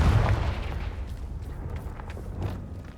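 A Confringo spell explosion in the Hogwarts Legacy game: a single heavy, low boom at the start that decays into a rumbling tail over a few seconds.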